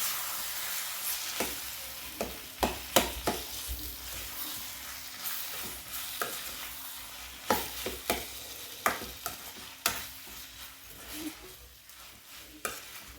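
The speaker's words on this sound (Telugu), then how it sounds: "బఠానీ, కొత్తిమీర, ఒకసారి మొత్తం కలిపేసుకుందాం." Peas and coriander stirred together in oil in a pan for aloo curry, repeated spoon scrapes and clacks over a soft continuous sizzle, moderately quiet and close.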